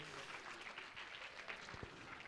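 Audience applause at a book launch, honoring a radio station owner, a faint, distant-sounding patter of clapping hands, steady for a couple of seconds with a few low thumps.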